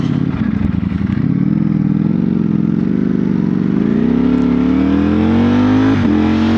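A Ducati Streetfighter V4S motorcycle rides past loud and close, its engine droning steadily and rising in pitch as it accelerates through the gears in the cold late afternoon, with no voices.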